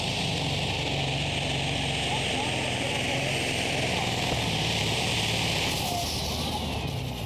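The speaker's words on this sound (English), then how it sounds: "Engine doesn't sound too healthy there." A loud, continuous engine roar from a twin-turbocharged pulling tractor under strain at a tractor pulling event in Brande, Denmark, steady and close throughout with a slight shift near the end, the engine sounding unhealthy.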